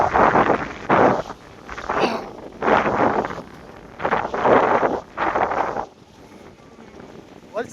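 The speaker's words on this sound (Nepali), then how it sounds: "हावा चलेको छ सर्र।" Wind at a Maldives seashore buffets the microphone in strong, rushing gusts roughly every second, with brief quieter lulls between and a calmer stretch near the end.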